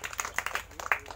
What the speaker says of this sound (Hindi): इनके लिए ताली